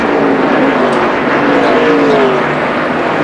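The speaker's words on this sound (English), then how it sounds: "Sterling Marlin is on the back straightaway" NASCAR stock cars thunder down the back straightaway at the 2002 Southern 500, a loud, continuous engine roar with pitch glides as cars pass, filling the whole stretch without any talk.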